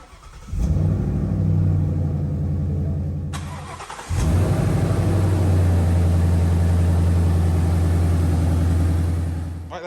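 A V8 car fitted with a Roush cold air intake cranks and catches, runs briefly and cuts out, then fires again and settles into a loud, steady, deep idle.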